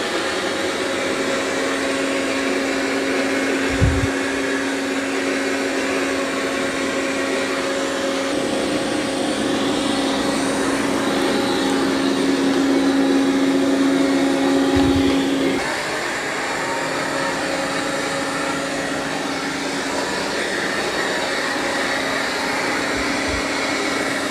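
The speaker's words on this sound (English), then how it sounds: "then it's going to go vacuum that area, because that area over there still needs vacuumed" Robot vacuum cleaner running over carpet, a steady whirring drone with a constant tonal hum throughout, its pitch shifting partway through, with a few soft bumps and no talking.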